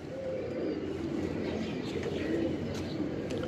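Pigeons in a loft coo softly in low repeated murmurs, faint and somewhat distant over a steady background hum, with no voices.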